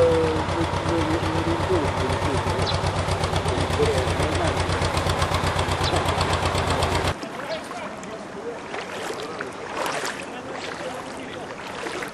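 A motor drones steadily and loudly with a throbbing rumble, then cuts to a lower, rougher running sound with voices faintly mixed in.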